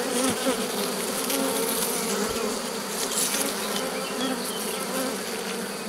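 Honey bees buzzing steadily around an open hive during a rescue of a drone-laying colony, a dense, continuous close-up hum with no talk over it.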